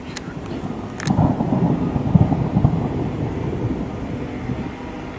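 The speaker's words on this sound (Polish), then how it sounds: "Same pioruny lecą." Thunder from a lightning storm near the Bełchów railway station in Poland swells into a low, rolling rumble that holds for several seconds before easing off, heard alone without speech.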